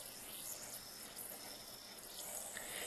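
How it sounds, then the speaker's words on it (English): Liquid fuel, tinted blue, is poured into a small canteen stove, about an ounce of it, making a steady trickling, splashing flow that stays close and moderately loud for the whole stretch with no talk. "I'm going to add about 1 ounce of the fuel to it"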